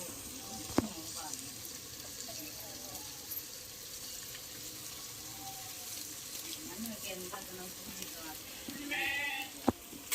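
Onion, tomato, ginger and garlic sauté in oil for a Tamil fish kuzhambu, a steady close sizzle and crackle running throughout, with a few sharp clicks of utensils and a voice talking over it.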